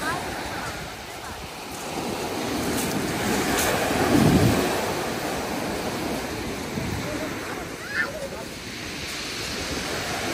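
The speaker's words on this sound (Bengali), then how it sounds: "বিকালবেলা সমুদ্রের একটা ঢেউ কি যে সুন্দর ভালো লাগছিল" Sea waves wash onto a beach near Ipswich, UK, in a steady, broad surf roar heavily buffeted by wind noise on the microphone, swelling briefly around the middle.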